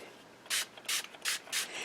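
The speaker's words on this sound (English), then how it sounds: "I'm going to spray it with this blue spray that has a touch of glimmer in it" Four short hissing sprays from a spray bottle of blue glimmer watercolor spray onto paper, evenly spaced, each a bright burst of mist about a quarter second long, close by.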